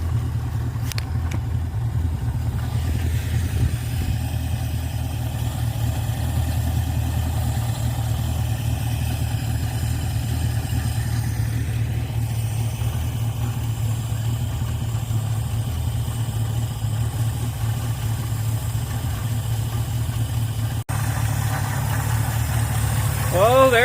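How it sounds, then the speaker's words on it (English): A Ford Fairlane engine fitted with a new Holley 500 CFM 2-barrel carburetor idles steadily and smoothly at about 800 RPM, a loud low drone that holds even for the whole stretch, with faint voices in the background. "That's a Holley 2-barrel, 500 CFM. And listen just how smooth that thing is running."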